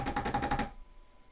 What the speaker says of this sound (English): Fingernails tapping a wooden surface.